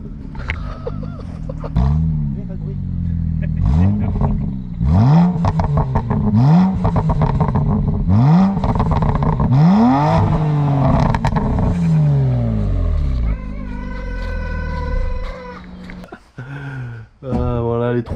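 A 2021 Honda CRF 450 dirt bike revs hard and close in repeated sharp throttle blips, each climbing and falling, then settles into a choppy idle with a few final bursts, while people talk over it.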